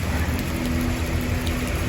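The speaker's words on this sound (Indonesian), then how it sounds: "Apalagi hujan seperti sekarang ya." Steady rain pours down in a cool, lush outdoor spot, a dense unbroken hiss with a faint low hum beneath and no voices.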